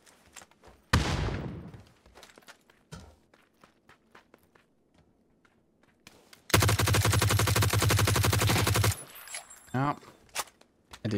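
Automatic fire from a G36C rifle in the PUBG battle royale game: a loud, sustained burst lasting a couple of seconds after scattered footsteps and small clicks, followed by a few shorter shots.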